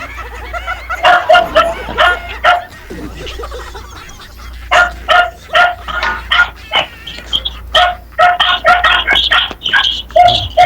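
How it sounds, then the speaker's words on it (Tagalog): Several dogs bark in repeated bursts, some near and loud, in irregular volleys with short pauses between them over a low steady hum. "Yung mga aso na nag-uusap, hindi tao."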